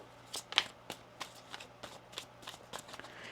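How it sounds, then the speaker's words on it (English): Tarot cards being shuffled close up, with a series of soft riffling bursts at an uneven rhythm over a faint steady hum, and no talking. "One more shuffle here"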